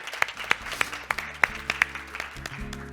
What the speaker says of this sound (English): warm round of applause for our panel speakers